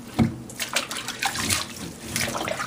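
Wet rag scrubbing and splashing around a box fan grille in a sink of soapy water, a steady run of sloshes and rubs close up, with no talk.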